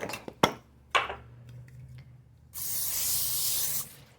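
Cooking spray hisses onto aluminum foil in a single steady burst of about a second, close up, after a few light taps and handling sounds in a quiet kitchen.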